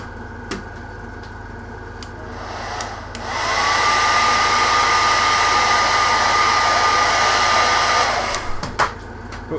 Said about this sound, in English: I'm just going to hit this with a hairdryer